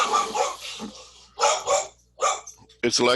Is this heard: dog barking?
yes